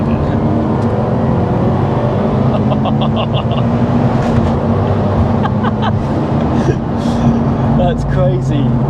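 A turbocharged Toyota GT86 making 340 bhp pulls hard in fifth gear, its engine droning loud and steady from inside the cabin with turbo whistle and a few chirps, while people talk over it.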